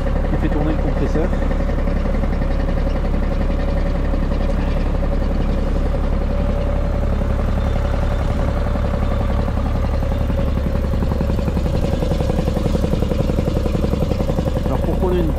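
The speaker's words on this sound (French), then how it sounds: "c'est le tracteur qui fait tourner le compresseur." Tractor engine driving an air compressor out in freezing winter conditions, a loud steady low drone with a constant hum running unbroken for fifteen seconds, with speech over it.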